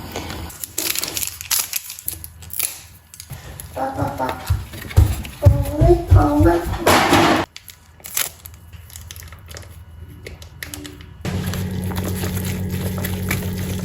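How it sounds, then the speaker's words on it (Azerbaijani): Water heating to a boil for morning coffee, rising to a steady, close bubbling hiss during the final few seconds, after earlier stretches of speech, clattering and handling noises. "Su qaynayır, onun səsi"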